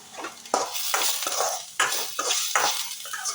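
Onions frying with cumin seeds and curry leaves in a pan, a spatula stirring and scraping in repeated bursts over a light sizzle, close up.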